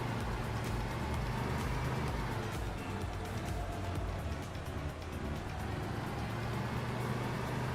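Car engine in the Car Dealer Simulator video game, a weak motor running without an exhaust, giving a steady, rough, continuous drone with no clear change in pitch throughout.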